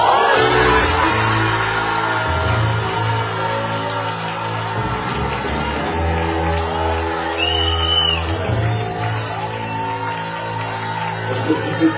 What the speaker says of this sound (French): nous tous ensemble, on va crier Hosanna